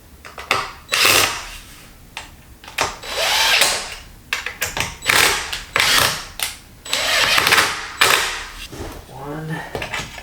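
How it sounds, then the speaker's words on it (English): Several bursts of a power drill driving screws while assembling a Halo Bassinest bassinet, whirring in short spurts, close by, with pauses and clattering handling noises between them. "Could do this with a screwdriver, but the drill just makes life so much easier"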